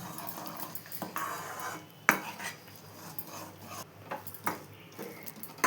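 A utensil stirs jaggery batter in a pot, giving soft scraping and clinking strokes at an uneven pace with a few sharper knocks against the pot, faint and close.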